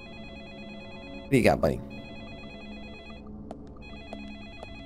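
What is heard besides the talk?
telephone ringing in video game Deadly Premonition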